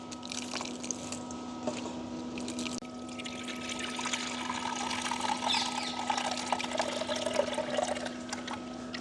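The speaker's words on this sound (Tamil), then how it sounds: "இப்போ வந்து நல்லபடியாக பாலை புளிஞ்சு எடுப்போம்" Grated coconut is squeezed by hand to draw out coconut milk for an egg dosa in a village kitchen. Wet squishing and trickling liquid run continuously nearby at a modest level, with no one speaking.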